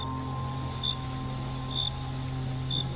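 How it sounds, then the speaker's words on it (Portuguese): Crickets chirp steadily at night in a forest, a constant high trill with brief louder bursts recurring about every second, over a low continuous background hum and no voices. "Um cricrilar constante"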